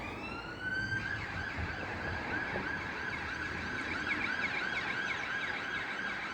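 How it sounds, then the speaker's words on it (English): A first responder paramedic ambulance siren wails past a winter allotment, a loud steady rising-and-falling tone sweeping continuously over distant road noise. "It's a first responder ambulance, a paramedic."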